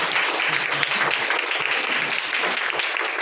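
A church congregation gives a steady, dense round of clapping to welcome a first-time visitor at a Sunday evening service; the applause is loud and continuous throughout, with no clear voices over it.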